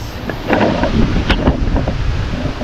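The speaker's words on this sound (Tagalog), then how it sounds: "sarap ng hangin" Steady wind rushing and buffeting outdoors, a broad continuous roar with gusty swells, fairly loud and close, no voices.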